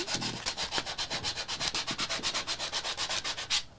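Sandpaper scrubbing old, weathered outdoor wood in steady rhythmic back-and-forth strokes, about twenty close, even passes, loud and alone with no talking.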